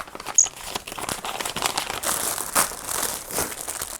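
Plastic packaging around a panettone crinkles and crackles close up as it is handled and pulled open. The rustling runs continuously with a few sharper crackles, and no one speaks.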